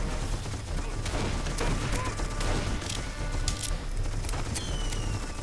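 Gunfire in the Darkest of Days video game, with rapid volleys of shots cracking over a continuous rumble of battle and hoofbeat-like thuds. A voice speaks briefly within the din.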